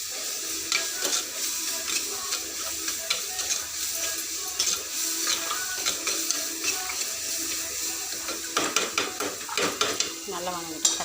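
Onion, tomato and curry leaves sautéing in a pan, with a continuous sizzle under frequent scraping and stirring clicks that get busier toward the end, no one speaking.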